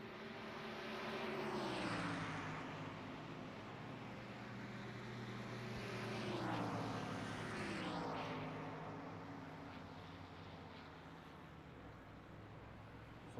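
Airplanes pass over a Darlington Raceway track in a racing video game, a droning engine hum that swells and fades twice as each one sweeps overhead, steady and moderately quiet with no talking.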